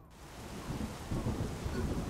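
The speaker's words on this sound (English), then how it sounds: "Oh, it's raining." Steady video game rain hisses continuously in Saints Row: The Third, with a low rumbling wash underneath like distant thunder, fairly quiet and unbroken.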